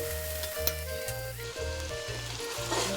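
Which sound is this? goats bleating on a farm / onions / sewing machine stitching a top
onions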